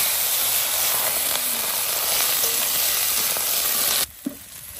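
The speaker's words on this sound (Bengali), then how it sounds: "বেগুন, শিম আর বিনস। চলুন এটা ভেজে নাও।" Eggplant, flat beans and beans fry in hot oil in a pan with a loud, continuous close sizzle that cuts off abruptly near the end, leaving a faint clink.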